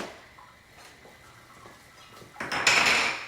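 A small cooking pot is handled in a kitchen with soft clinks and shuffles, then a louder metallic scrape and clatter near the end, close and without talk.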